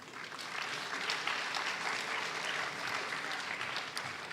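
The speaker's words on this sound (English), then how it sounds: "I request the audience to give a round of applause." An audience at a conference panel discussion claps steadily, a dense, even wash of applause that carries on without a break.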